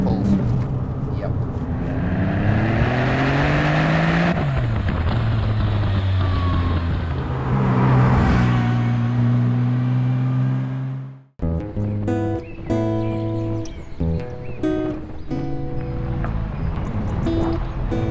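A 2001 Porsche 911 Turbo (996) with a twin-turbo engine pulls hard in third gear at about 55 km/h, its engine note climbing steadily under a voice. After a sudden cut, a different engine and road sound continues with talking.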